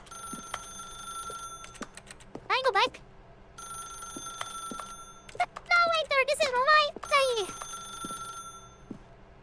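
A telephone in a video game rings in repeated electronic trilling bursts, with people talking loudly and excitedly over and between the rings.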